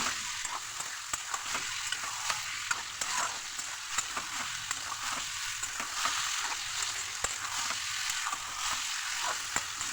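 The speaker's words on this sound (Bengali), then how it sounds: "এটা ভালোভাবে কষে নিচ্ছি।" Ground spices for a bitter gourd and potato curry sizzle and fry steadily in a pan, with a constant bright crackle and frequent small scraping stirs, close and alone with no talk.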